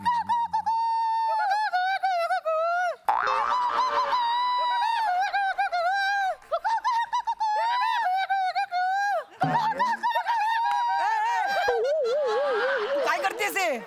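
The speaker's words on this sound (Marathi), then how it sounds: "मग हा कोणत्या तरी पक्ष्याचा आवाज आहे" A bird call played for a sound-guessing game: a string of warbling, whistled chirps and trills repeating with short gaps, loud and close, with people talking over it.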